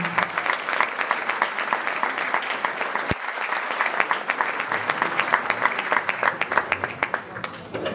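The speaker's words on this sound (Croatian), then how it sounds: "zato vas pozivam da je pozdravimo velikim aplauzom" Audience applause at a Women's Day celebration in Višegrad, a dense, steady stretch of clapping from a sizeable crowd that continues for the full length without talk.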